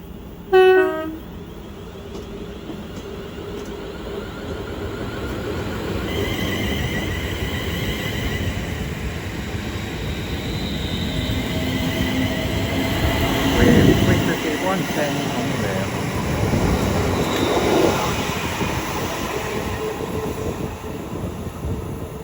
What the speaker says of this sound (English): As off goes is the so delayed 1802 London Northwestern Railway service from Tring to London Euston.